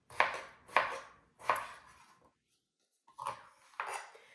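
A knife chops through potatoes on a cutting board in a home kitchen, three sharp close knocks in steady rhythm, a pause, then two more cuts.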